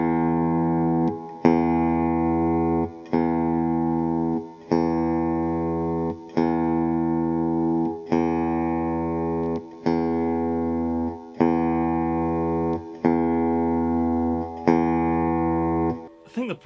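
Electric guitar fitted with brass versus vintage and standard bridge saddles, a sustained chord strummed about nine times at steady intervals of roughly two seconds, each ringing out clean and close with no talk.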